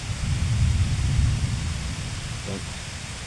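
Steady, heavy rain hisses without a break, with a low rumbling undertone throughout.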